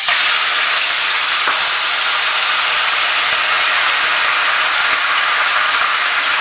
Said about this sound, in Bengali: পেঁয়াজ বাটাটা মাঝারি আঁচে আমি ফ্রাই করব কিছুক্ষণ।